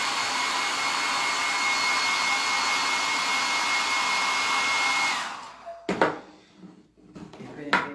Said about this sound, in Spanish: Le doy un secador de pelo